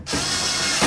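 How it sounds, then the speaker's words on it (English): Brief, close whine of a power tool driving window regulator mounting screws on a Toyota Tundra door, running steadily for under a second and ending with a slight surge. "Let's put in our mounting screws and snug them up."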